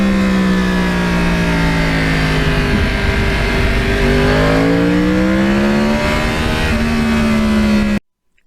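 A 2009 Yamaha R1 crossplane motorcycle engine revs loudly and continuously, pitch climbing and falling through several throttle sweeps before cutting off abruptly near the end.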